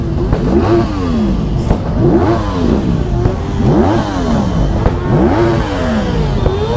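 A superbike engine revs hard four times in a repeating rise-and-fall pattern, loud and close, each throttle blip climbing in pitch before dropping back, with no talk over it.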